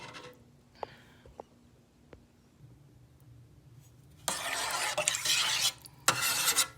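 Casserole ingredients for a noodle casserole with gelatin-like soup are mixed in a pot over low heat, starting with faint scrapes and taps before a louder burst of stirring and sizzling that fades and returns.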